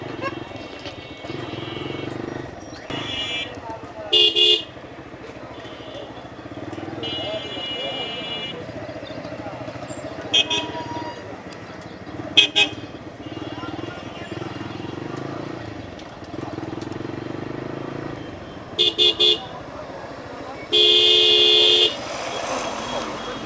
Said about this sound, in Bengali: মার্কেট এরিয়া হওয়ার কারণে প্রচুর পরিমাণ ভিড় এদিকে, বাইক, অটো, ইজি বাইক।